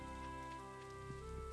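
Steady rain patters in a video game, a faint, even hiss that continues unbroken over a soft tonal background drone.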